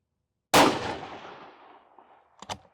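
One sharp, loud rifle shot from an Aero Precision Solus chambered in 22 GT cracks outdoors at a shooting range and decays into a long echo, followed by a quieter double click.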